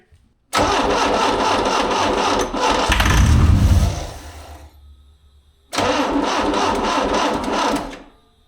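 A Beretta Z26 with a Quad 4 engine and five-speed cranks with a steady whirring starter, briefly catches with a rough roar that fades, then cranks again in a second loud burst before stopping.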